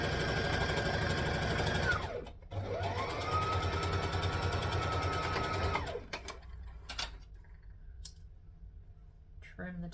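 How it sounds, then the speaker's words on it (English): Sewing machine stitching and back stitching in two close, steady runs that pitch down briefly between them, then stops, leaving faint clicks and handling noise. "I'm going to stitch and back stitch"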